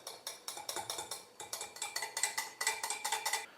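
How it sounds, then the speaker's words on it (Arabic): A whisk or spoon beats vanilla and two eggs in a bowl, clicking against the sides in a fast, even rhythm of about four strokes per second, close and clear with no talking. "راح نضيف كمية الفانيلا ونضيف أيضا البيض. هذه الحبة الأولى وهذه الحبة الثانية، وراح نخلط كامل هذو المقادير مع بعض."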